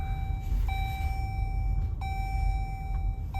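Steady electronic beeps from a 2025 Jeep Grand Cherokee L repeat at a regular pace over a low, constant vehicle rumble, with no talking.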